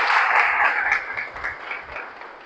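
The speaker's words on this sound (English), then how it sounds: "I think both of us deserve a good round of applause" A speech-club meeting audience gives a steady round of applause, a dense wash of many hands clapping close by that slowly thins toward the end, with no talking over it.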